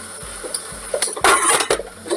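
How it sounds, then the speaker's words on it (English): A lid goes onto a cooking pot with a few close metallic clanks and clinks bunched together over about a second, in a quiet kitchen. "And put the lid on it"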